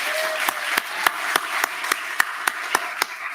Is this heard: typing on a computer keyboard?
no